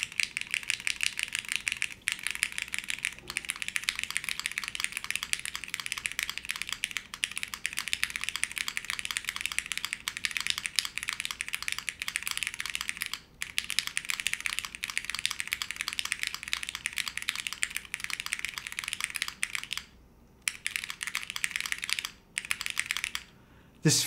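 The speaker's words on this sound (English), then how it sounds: "This is a soft feeling keyboard. It sounds great though, I have to admit." Steady, dense typing on a soft-feeling custom mechanical keyboard, with muted, rapid keystrokes running almost nonstop at close range and only a few brief pauses.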